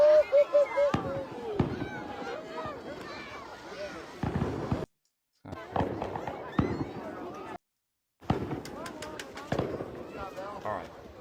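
New Year's night fireworks over a ski slope, a string of loud cracks and booms with crackling bursts, people talking and a crowd murmuring throughout, interrupted by brief silent gaps.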